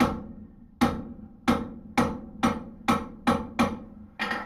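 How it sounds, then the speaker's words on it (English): Hammer blows forming the head of a rivet on blacksmith's box jaw tongs, about eight sharp metallic strikes at a steady rhythm, each ringing briefly, heard close. "all I'm doing is right now is actually forming the head of the rivet"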